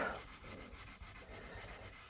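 Sandpaper rubs over the wood of an old window sash being restored, with gouged areas from past glazing work, giving quiet rhythmic back-and-forth scratching strokes that continue steadily without speech.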